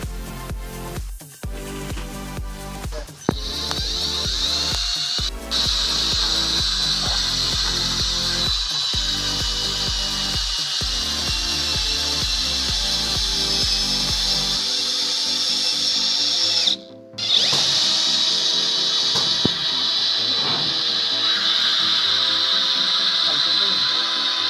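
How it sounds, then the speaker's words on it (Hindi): An impact drill drives a nut into very hard wood, giving a loud, continuous high-pitched whine with rapid rattling hammer bursts early on, a brief pause near the end, then the motor resumes alone. "तो बहुत ही मज़बूत लक्कड़ में इसने जो है नट आराम से अंदर डाल दिया था।"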